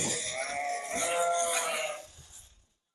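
Sheep and newborn lambs bleat on a farm during lambing, several overlapping calls close by and fairly loud, continuing for about two seconds before fading away.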